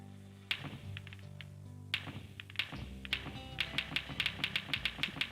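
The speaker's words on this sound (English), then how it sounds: "Keep rapidly clicking." Rapid clicking while playing the Rainbow Fish video game, a quick series of crisp close taps speeding up over soft game music.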